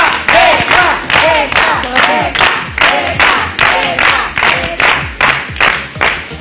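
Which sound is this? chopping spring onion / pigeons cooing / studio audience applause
studio audience applause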